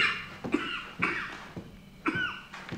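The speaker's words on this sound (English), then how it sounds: "he's basically coughing in every single scene we see him in now" A man coughs repeatedly in a TV drama scene from the western series Deadwood, with three or four harsh, rasping bursts spaced about half a second apart, fairly close and with no one talking.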